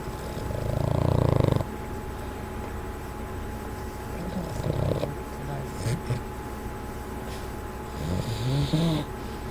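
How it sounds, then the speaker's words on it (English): A pet dog snores and snorts close by: a loud rasping snore at the start, then softer snuffling breaths and snorts, with a person speaking briefly near the end. "Ben, are you snoring?"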